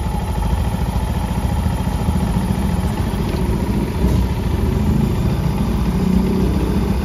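Yamaha Mio motorcycle engine fitted with a four-groove piston, running steadily and loud up close with a continuous buzzing, clattering drone and no talk.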